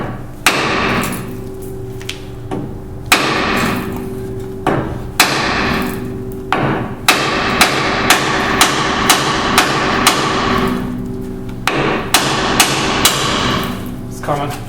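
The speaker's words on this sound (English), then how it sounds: "we're just going to try to beat it with a hammer" Repeated hard metallic hammer blows strike a ball joint on a Chevy half-ton 1500 two-wheel-drive truck, irregular at first then a rapid steady series of sharp ringing impacts, loud and close with workshop noise underneath.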